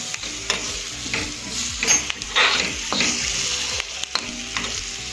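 Spices including asafoetida and black salt dry roasting in a pan, with a continuous crackling sizzle and frequent scraping, stirring clicks throughout, close and fairly loud.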